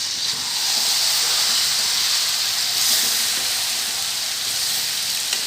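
Chicken frying with Nestle biryani masala in a pot for restaurant-style biryani, a loud, continuous, even hiss of steam and sizzling heard up close with no talk.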